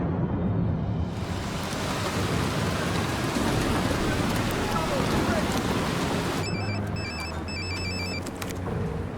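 Heavy, steady rain pours down throughout, a dense hiss, and a phone starts ringing with repeated electronic trills near the end.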